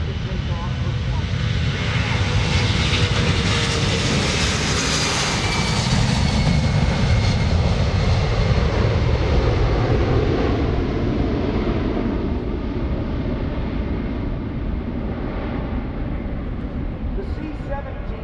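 A C-17 Globemaster III military jet at the EAA AirVenture 2018 airshow roars loudly and continuously, its engine noise swelling and slowly shifting in pitch as it passes, with a commentator talking over it.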